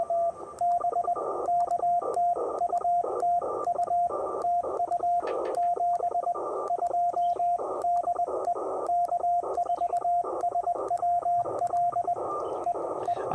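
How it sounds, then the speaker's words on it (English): CW Morse code keyed on a Ten-Tec Argonaut VI radio during a portable park activation: a loud, clear sidetone beeping in rapid dots and dashes, steady and uninterrupted throughout. "I can't talk and CW at the same time."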